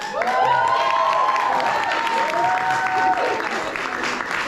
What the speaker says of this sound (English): One more round of applause to the last speaker of the night, Mr. Don Erden.